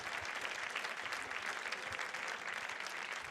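A room of guests at a school fundraising event gives donors a round of applause, a steady dense clapping heard faintly and at a distance throughout.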